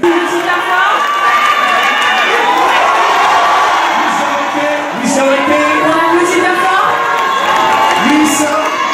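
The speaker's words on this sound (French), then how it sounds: "On l'applaudit bien fort également" A loud crowd at a beauty pageant cheers and whoops continuously, with shouting voices blending into a sustained roar.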